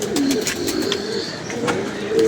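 Domestic pigeons coo in a soft, repeated, rolling rhythm close by, with faint background chirps and no clear talk.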